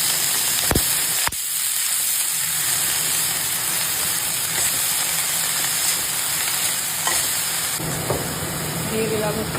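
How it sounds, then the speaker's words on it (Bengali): Banana flower tossed in hot oil with whole cumin gives a steady, dense sizzle that runs through the clip, with a few sharp clicks from stirring near the start. "মোচাটা তেলের উপরে দিয়ে সুন্দর করে আমি নাড়াচাড়া"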